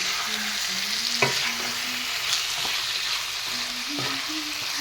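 Ground coriander and cumin frying in a pan being stirred, a steady sizzling hiss throughout with occasional scraping knocks of the spatula against the pan.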